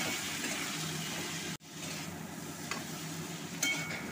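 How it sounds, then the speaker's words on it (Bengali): Ivy gourd and potato pieces stirred in a pan after the lid comes off, with a steady low sizzle and soft scraping strokes, a brief cut near the middle, fairly quiet and without talk. "ঢাকনা খুলে দিয়ে আবার ভালো করে নাড়তে থাকলাম।"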